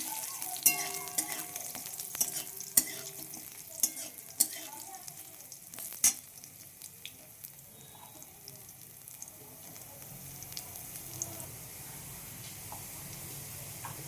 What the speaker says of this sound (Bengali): রসুন আর লঙ্কা তেজপাতাটা আমি দিয়ে দিলাম ভালোভাবে কষিয়ে ভেজে নেবো